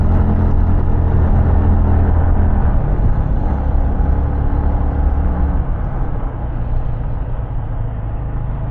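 A car engine labours through a cold start in chilly weather, producing a loud, dense, continuous rumble that eases off slightly partway through.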